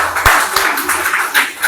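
Audience applause for a prize winner at a school result announcement, a short burst of steady hand clapping from a crowd, fairly loud and close.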